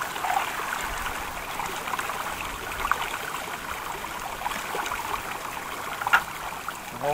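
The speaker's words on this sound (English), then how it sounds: "Dump the excess water out." Excess water is dumped out of a gold-panning tub or pan in the Rocky Mountains, a continuous close trickling and splashing flow with a few brief louder sloshes.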